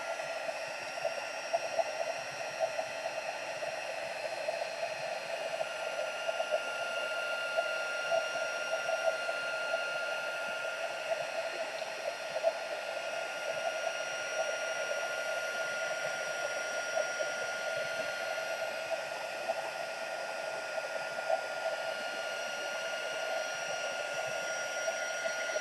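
Heat embossing tool warming up for card embossing, a steady airy fan whir with a faint electric hum that holds unchanged throughout, quiet and close, with no talking.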